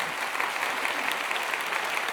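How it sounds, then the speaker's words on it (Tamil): Dense, steady audience applause fills a studio hall during a Tamil television debate show, many hands clapping continuously at an even level without pause. "புரிஞ்சவங்க கைதட்டுவாங்க"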